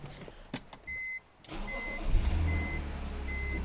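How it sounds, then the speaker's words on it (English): A BMW inline-six engine starts in a garage: a few clicks and a short whine, then the starter catches and the engine settles into a steady, close idle rumble. "let's fire this thing up and then check our charging voltage"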